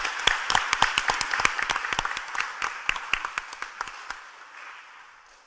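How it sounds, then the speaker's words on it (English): Audience at a county commission workshop applauds the daycare charity's displays, with dense overlapping claps and sharp individual hand strikes standing out, steady for about four seconds before tapering off. "So please give them all a round of applause for the beautiful displays."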